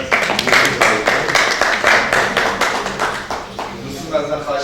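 An audience applauds at a book presentation, with dense rapid clapping that holds steady and then fades, and a voice speaking over it.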